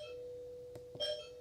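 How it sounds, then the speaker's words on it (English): A doorbell camera unit chimes once at close range, a clear sustained electronic tone with a short two-note ding-dong near the end, sounding alone over faint room hum. "your doorbell should chime"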